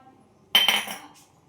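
A metal spoon clinks briefly against a container while Kashmiri red chili powder goes into a raw mango and onion salad, one short, close burst of clatter and then quiet.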